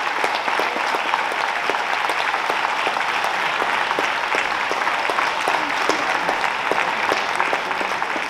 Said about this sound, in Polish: Zobacz, jak ci biją brawo wszyscy.